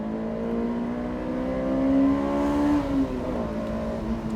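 A Honda S2000 roadster drives and accelerates, its engine note climbing steadily through the revs, peaking, then shifting and settling, loud and close throughout.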